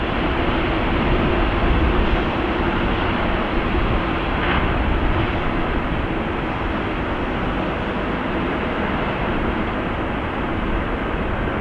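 A train locomotive passing by on a high-speed line, a loud, steady broadband rumble and roar that fills the whole span without breaks, close and continuous.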